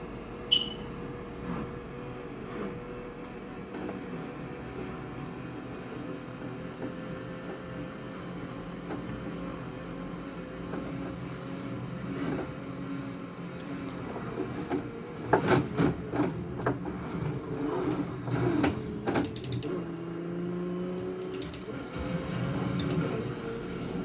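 A Logitech G923 racing wheel working its force feedback: a continuous low mechanical whir and hum with rubbing, then a burst of rapid clicks and knocks toward the end, close and fairly quiet.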